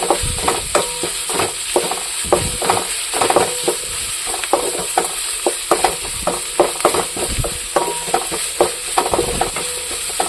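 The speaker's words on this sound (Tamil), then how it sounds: "சீரகத்தை போட்டு நல்லா வணக்கலாம்" Onions and cumin sautéing in an oiled pan for a Tamil chicken gravy, a steady close sizzle broken by frequent clicks and scrapes of stirring throughout.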